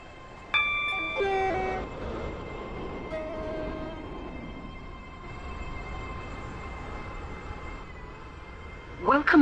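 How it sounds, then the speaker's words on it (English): A Class 801 train in a railway video game pulls into a station platform, a steady rolling rumble with tonal horn-like beeps near the start, a recorded announcement voice over it, and a sharp burst at the end. "The train now approaching Platform 1 terminates here."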